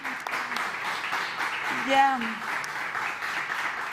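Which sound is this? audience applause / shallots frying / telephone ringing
audience applause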